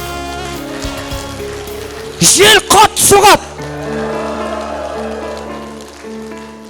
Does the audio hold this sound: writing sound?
no